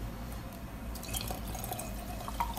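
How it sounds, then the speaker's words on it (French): Water poured from a glass into a drink being prepared, heard as soft trickling and dripping splashes, faint and close, over a low background hum. "Donc là, je vais venir ajouter un verre d'eau."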